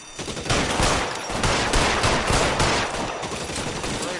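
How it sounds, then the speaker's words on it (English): Rapid bursts of automatic and scattered gunfire in the LA Noire video game, during a push on a building, are loud and dense and fill the whole stretch with overlapping shots. "Come on, make a push for the building. Lay down to fire."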